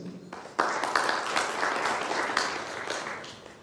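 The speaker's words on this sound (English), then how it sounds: "A round of applause for Fiona, please." Applause breaks out suddenly from an audience, many hands clapping steadily and loudly, sustained without letting up.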